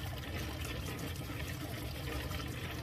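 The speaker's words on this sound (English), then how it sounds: "I'm using a little bit of hot water here, and we're going to get this really clean." Hot tap water runs steadily over agates being rinsed clean after a soap scrub, a continuous close splashing rush with no talk.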